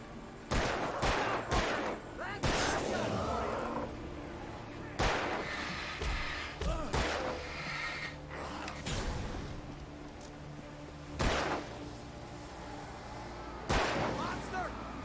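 Gunshots in Alan Wake, a dozen or so sharp loud shots fired at irregular intervals, some in quick pairs, with a continuous low background drone between them.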